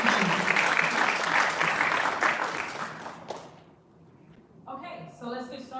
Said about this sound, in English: Round of applause for Miss Olivia and the rest of all of our team